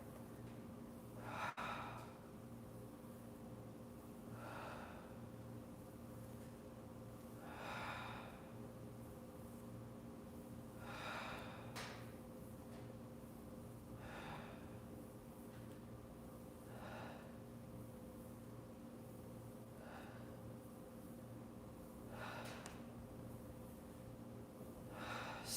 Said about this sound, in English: Feel that exhalation drawing your navel towards the body.